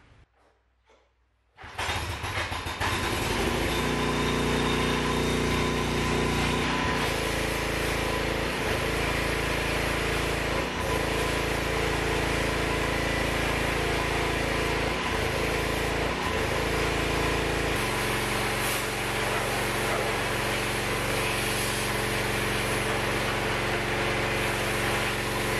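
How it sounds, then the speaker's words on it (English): A pressure washer sprays down the engine bay of a classic Saab 900. It begins abruptly as a loud, continuous hiss over a steady motor hum, with brief dips where the spray shifts and a change in tone partway through. "now let's pressure wash this thing"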